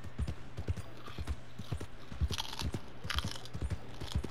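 Rhythmic clip-clop of horse hooves at a steady walking pace in the video game Red Dead Redemption 2, close and clear, over a faint background hum.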